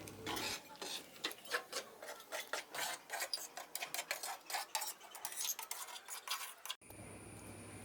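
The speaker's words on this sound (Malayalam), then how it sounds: "നമുക്കൊന്ന് ഇളക്കിക്കൊണ്ടിരിക്കാം." A spoon scrapes and stirs ginger curry in a pan, quick rhythmic strokes close up, continuing steadily before stopping abruptly.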